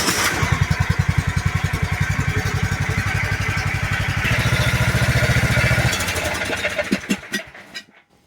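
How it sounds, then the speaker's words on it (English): An MTD 547cc lawnmower engine cranks and catches, then settles into a loud, close, steady putter that gradually smooths out before a few sharp clicks and the sound tapering off. "start the engine and idle it for a few minutes to get the oil warm"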